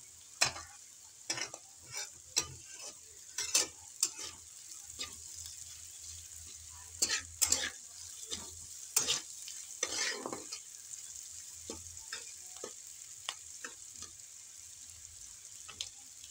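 Onions frying in a pan give a quiet, steady sizzle, broken by a series of sharp scraping and tapping strokes as they are stirred, the strokes coming in irregular bursts and then thinning out toward the end, with no talking.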